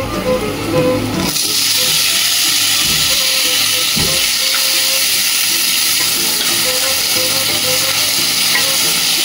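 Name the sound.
tomatoes added to frying spice paste, sizzling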